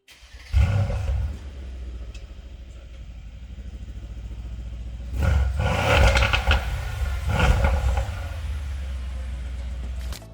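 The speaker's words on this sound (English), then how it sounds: "Let's check out what the same motor sounds like in the slightly toned down version of the C63S convertible." Mercedes C63S AMG convertible engine and exhaust revving hard in loud bursts, with a sharp blip early on, then two big surges around the middle, rumbling deep and mean between revs with no talk over it.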